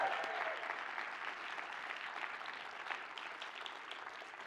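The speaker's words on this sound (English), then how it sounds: "Just let's hear a cheer for these people." An audience at a live storytelling event claps and cheers in a dense, steady wave of applause that eases slightly toward the end.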